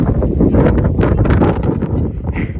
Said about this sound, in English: Winds are about 20 miles an hour, maybe to 23?